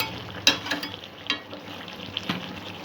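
Chicken curry frying and being stirred in a pan: a soft steady sizzle broken by several sharp scraping knocks of the spoon, close by, with no talking.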